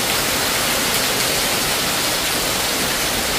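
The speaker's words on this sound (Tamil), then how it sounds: "மழை எப்படி பெய்யுது." Wind-driven heavy rain at a house roars as a constant dense hiss, loud and close, with no voices.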